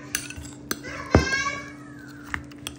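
A spoon clinks and scrapes against a bowl while a cucumber salad with onion and mango is mixed, giving a few sharp taps and one louder clatter, with a faint voice in the background.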